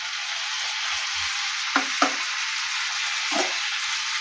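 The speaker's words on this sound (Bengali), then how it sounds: "পোস্তুর ধোয়া জলটা দিয়ে দিলাম।" Water from rinsed poppy seeds hits luffa frying in a pan, producing a loud, even hiss with a few brief bubbling pops and stirring knocks, no voices.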